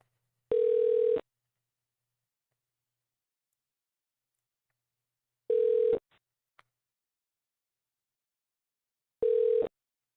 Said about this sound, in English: Ring sounds like it's disconnected.